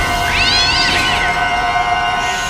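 A cat meows from inside a refrigerator in the film End of Days, one drawn-out rising and falling meow over a steady, dense background of score and room noise.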